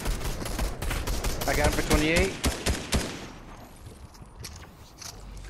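Rapid bursts of gunfire in a Fortnite Zero Build trios match, sharp repeated shots over the first few seconds, mixed with a player talking excitedly before the firing fades.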